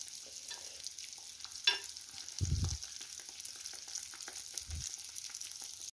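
Pampushky dough balls fry in hot oil with a steady, close crackling sizzle, broken by a few dull low bumps and one brief sharper tap as the balls are turned.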